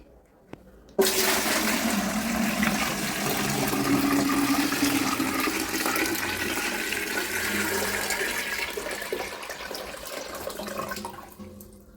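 Papanasam holy water from Tirupati is poured into a filter, making a loud, continuous splashing gush that starts suddenly and runs for about eleven seconds before tapering off.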